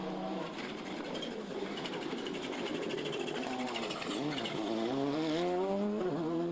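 Rally car racing flat out through a hairpin at the Clonakilty West Cork Rally, a loud sustained engine drone with rising gear-by-gear pitch sweeps, close and continuous without any talk.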